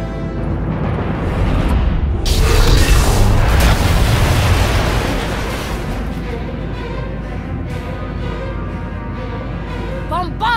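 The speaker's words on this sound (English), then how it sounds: "Bombard them! Don't stop until the Outlander's melted to slag!" Heavy artillery bombardment in a Star Wars game battle, with deep booming explosions that swell loudest early on and then give way to a lingering rumble and scattered bursts.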